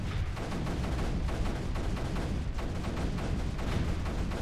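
Big Bertha cannons in a video game pound away in a steady, overlapping stream of heavy booms, loud and unbroken throughout.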